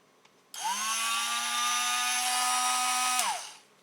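A freehand rotary tool that screws onto a shaft spins up abruptly, runs with a steady high-pitched whine for about three seconds, then winds down, heard alone and up close.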